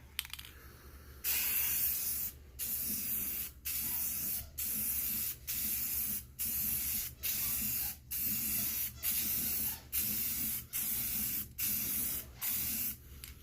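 Car wheels being spray painted with Rust-Oleum paint, a loud hissing aerosol spray in a dozen or so evenly spaced bursts, each about a second long with short pauses between, close to the microphone.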